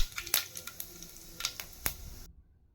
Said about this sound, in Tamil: கடாயில் எண்ணெய் ஊற்றி எண்ணெய் நல்லா காஞ்சதும் பட்டை, கிராம்பு, சோம்பு,